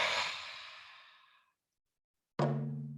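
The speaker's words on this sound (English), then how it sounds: "Take a deep breath in and let it out like you mean it." A deep, forceful exhale fades out over about a second and a half. After a short silence, a second breath starts sharply with a voiced, sighing tone, all close and alone in a quiet room.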